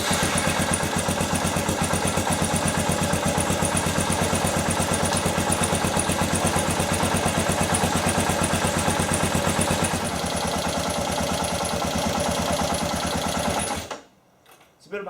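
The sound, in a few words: Kawasaki KLR 650 motorcycle engine idling to warm up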